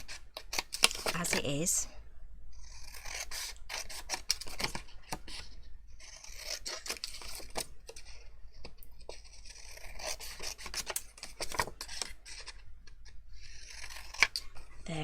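Scissors snip steadily through patterned craft paper, a run of crisp, close cuts and rasps with brief pauses, while someone talks over the work.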